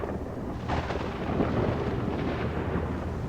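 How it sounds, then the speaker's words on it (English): Thunder rolls through the Outer Wilds video game as a continuous deep rumble, with a sharper crackling swell near the start that settles into steady, loud, broad rumbling with no voices. "We can all hear the thunder and lightning"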